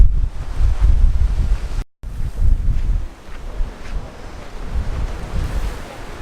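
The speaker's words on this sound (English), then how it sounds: "It's so windy right now." Strong wind on Bruny Island, Tasmania, buffets the microphone in heavy low rumbling gusts, with a roar like surf behind it and a brief dropout near the start.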